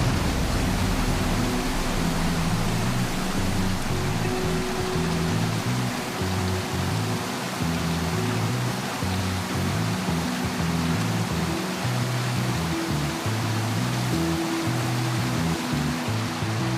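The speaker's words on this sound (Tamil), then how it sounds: "இது ஒரு மிகப்பெரிய நீர்வீழ்ச்சி." A large waterfall in the Sierra Nevada del Cocuy mountains roars as a dense, constant rush of falling water, loud and unbroken throughout.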